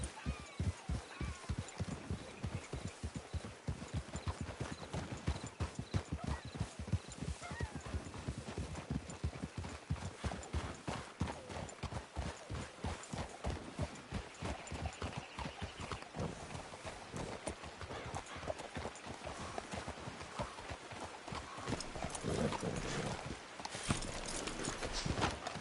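Horse hooves pound in a steady, rapid galloping rhythm in Red Dead Redemption 2, the dense beats running close and loud for the whole stretch, with ambient game sound beneath them.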